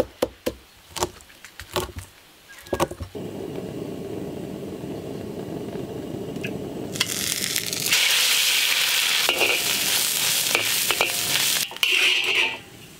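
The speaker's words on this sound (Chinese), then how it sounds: "煎鱼头必须混合油，吃起来更香" A fish head frying in oil in a wok: a few sharp knocks at first, then a steady loud sizzle that swells into an intense crackling hiss as more oil heats, with no talking.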